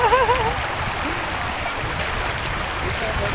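Strong current in a freshwater stream rushes steadily, a loud, close broadband wash of flowing water, with a brief voice heard at the start.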